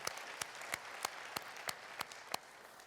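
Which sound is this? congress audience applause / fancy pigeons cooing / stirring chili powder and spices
congress audience applause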